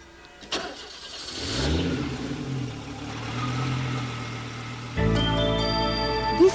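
A Sbarro self-parking supercar starts up and manoeuvres into a parking space, its mid-pitched engine rising from ignition into a steady idle and drive, then a sharper mechanical whine joins near the end. The sound is close and fairly loud, with no talk.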